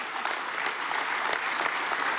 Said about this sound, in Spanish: Más de un aplauso, vale, para que no sea tan seca la despedida.